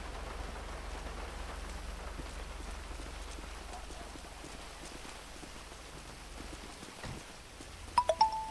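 Steady rain pattering over a low droning rumble in a video game, continuous and moderately loud, with a few sharp knocks near the end.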